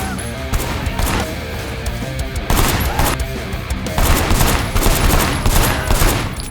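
Rapid bursts of automatic gunfire from the video game Sleeping Dogs, loud and sustained fusillades with repeated volleys throughout.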